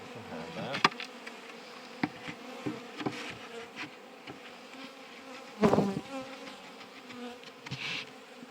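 Honeybees buzz around an open hive in spring, a continuous insect hum close by with louder passes as individual bees fly near, plus occasional handling knocks.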